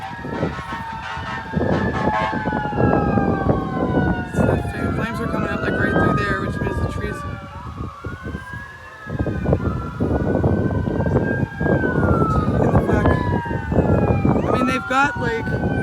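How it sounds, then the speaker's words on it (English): Wailing fire engine sirens rise and fall continuously at an escalating blaze, loud and overlapping with rumbling traffic and scattered voices. "Fire engines raced to the scene with sirens blaring"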